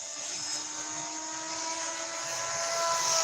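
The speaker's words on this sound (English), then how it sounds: "You see how that airplane flies?" An airplane flying overhead at an aerobatic event, a steady, distant engine drone with a thin whine that slowly swells louder, heard alone.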